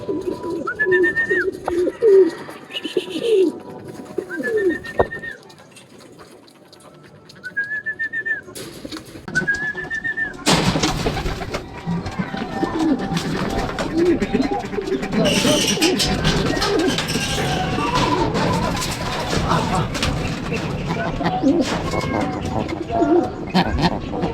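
Racing pigeons at a summer derby race in San Fernando, La Union coo in a few repeated calls early on, followed by a louder stretch of rustling and bustle with other bird sounds.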